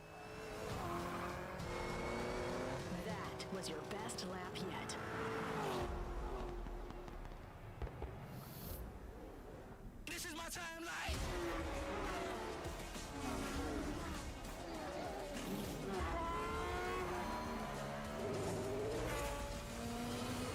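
Race cars in a Forza Motorsport game trailer, engines revving and howling with tire squeals and skids, punctuated by sharp bangs and a brief near-silent gap midway, all loud and dense with no talking.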